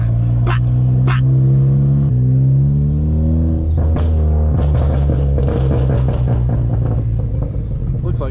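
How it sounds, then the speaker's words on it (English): A car engine with a loud tuned exhaust revs and rumbles up close, its tone rising with a whooshing turbo spool intake and a sharp blow-off valve release of air near the end. "hear that air suction with the turbo spool and the blow valve"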